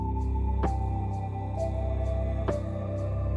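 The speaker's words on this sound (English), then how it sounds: "After all the processing that I did and the mastering, the track sounds like this." A mastered lofi beat plays with a warm sustained bass and chord bed, soft regular hi-hat ticks and occasional snare hits, steady and alone.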